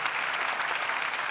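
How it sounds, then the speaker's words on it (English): Applause from a seated audience at a political summit fills the short span, steady and dense from start to finish with no voice above it. "So let's give Cole a round of applause."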